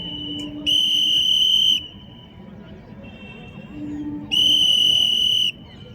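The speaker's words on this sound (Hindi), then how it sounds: "लंबी सीटी 5 सेकंड के अंतराल में।" During a police drill, a sharp whistle gives two long, loud, piercing blasts several seconds apart, with faint ambient noise between them.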